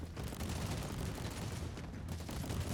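Two automated turrets firing in Warhammer 40K Inquisitor Martyr, a dense, continuous barrage of rapid gunfire shots layered over low booms, loud and close throughout.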